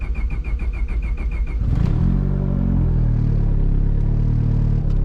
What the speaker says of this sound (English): Let's fire it up and go take it for a ride.